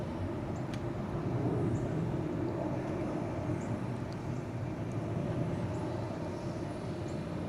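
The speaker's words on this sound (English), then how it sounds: "767-300ER. And it's just about to take off here on Runway DFW, live from Atlanta" Boeing 767-300ER airliner taking off at Atlanta airport, heard from a distance as a steady, broad roar that holds evenly throughout, with faint chirps over it.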